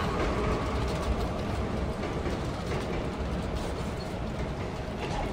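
A train in the video game Dead Space 2 rolls along its rails with a steady, dense rumble and rattle that holds at an even level throughout, with no talking over it.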